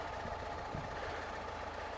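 A new tractor works at a forest logging site, its engine giving a steady, low, rumbling idle at moderate distance, continuous and unbroken, with no one speaking.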